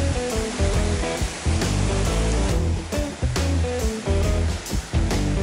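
Mountain stream on the Appalachian Trail in Vermont tumbles over a small waterfall into a soaking pool. Steady, close, broadband rushing and splashing runs alone and continuously throughout, with no voices.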